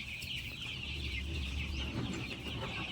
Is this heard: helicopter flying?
no